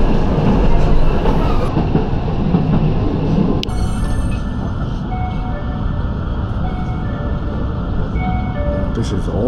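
Tokyo streetcar tram pulling in at Otsuka station on the Tokyo Sakura Tram line, a steady low rumble of wheels and motor with chimes and station noise, loud and close, with people talking over it.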